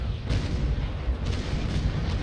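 A ship's cannon broadside fires in the naval combat game Naval Action, a dense run of deep booms rolling together into a continuous loud rumble with no separate pauses.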